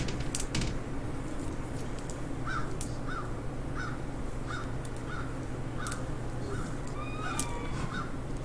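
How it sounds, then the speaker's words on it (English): Crows around a house caw repeatedly in an even series of about a dozen harsh calls at a moderate distance, over a steady background hiss, with a few faint extra calls near the end. "our house is surrounded by crows"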